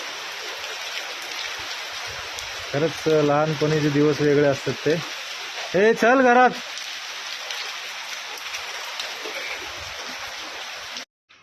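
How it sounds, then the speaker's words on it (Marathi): Heavy rain pours in a steady, loud hiss that runs through the whole stretch, while voices talk over it near the middle. "एवढा जोरात पाऊस चालू आहे"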